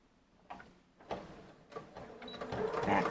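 Sewing machine back stitching on paper for a Christmas junk journal, a few short bursts of mechanical stitching that build into a louder, steadier run near the end.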